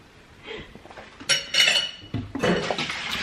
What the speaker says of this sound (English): This little stir fry action we got going on tonight.